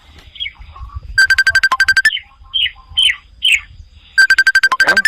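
Phone ringtone made of chirpy, bird-like electronic tones, playing in loud repeated bursts of rapid beeps with short gaps between phrases.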